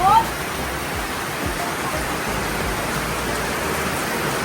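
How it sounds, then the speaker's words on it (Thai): Heavy rain pours down steadily and loudly, a dense unbroken hiss close by that runs through the whole stretch. "ฝนตกแรงมากครับ"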